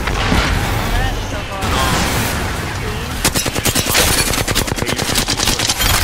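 A thermite grenade and gunfire in an Apex Legends match: a steady, loud burning hiss fills the first seconds, then a rapid, evenly spaced run of close automatic shots hammers on to the end.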